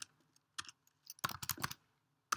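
Short bursts of typing on a computer keyboard, quick clustered key clicks with gaps between, close and quiet with no voices.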